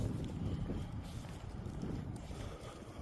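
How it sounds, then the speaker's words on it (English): Strong wind buffets the microphone outdoors near an old railroad bridge on a cold day, a continuous low rumbling roar with gusty swells. "It's pretty windy out"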